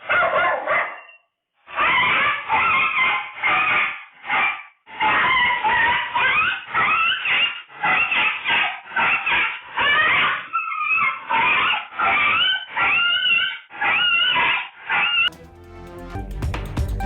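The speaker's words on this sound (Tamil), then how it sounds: "சிறுத்தையை நேருக்கு நேர் சண்டையிட்டு விரட்டியடித்த வளர்ப்பு நாய்" A pet dog fights off a leopard at a house, barking and snarling loudly in rapid, continuous bursts with brief pauses and a short scuffle at the end.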